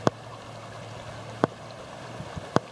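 Salmon thrashing in the Tuolumne River during a salmon run: three sharp, separate splashes over steady flowing water, each a brief close burst.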